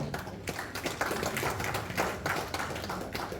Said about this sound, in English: big round of applause for everyone